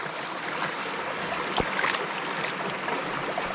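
A mountain stream flows steadily with a broad, even rush of water, near and continuous, with no voices.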